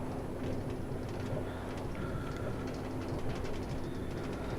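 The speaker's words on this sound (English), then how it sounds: "This was my roller coaster. And you can just set it going and off it goes." A ride vehicle on a video game roller coaster runs along its track with a steady rumbling, clattering roll, faint and continuous with no talk.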